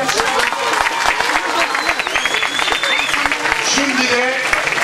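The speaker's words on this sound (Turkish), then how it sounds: "Bir alkış rica ediyorum." A crowd at a Republic Choir event claps steadily and loudly throughout, with voices mixed into the broad wash of hands.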